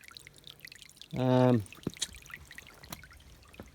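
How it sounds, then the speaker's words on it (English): Water in a small creek dammed upstream to feed a gold sluice makes a short, gurgling pouring rush. A faint trickle follows, and a voice is heard briefly. "I've dammed it upstream a little bit so that I can build the water up."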